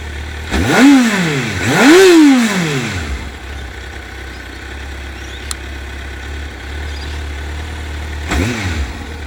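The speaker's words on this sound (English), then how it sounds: "typical high revving 4-cylinder engine. Sounds like that as well." Kawasaki Z750 four-cylinder motorcycle engine revving hard twice in quick succession, settling back to a steady idle, then giving one more short blip near the end, loud and close.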